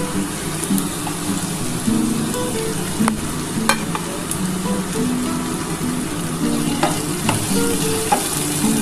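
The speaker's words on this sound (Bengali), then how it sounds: "ভাজা ভাজা হয়ে এসেছে আলুটা এবার আমি পেঁয়াজটা দিয়ে দিচ্ছি" Onion goes into potatoes frying in oil in a pan, a loud, steady crackling sizzle up close with repeated stirring scrapes and light ladle taps throughout.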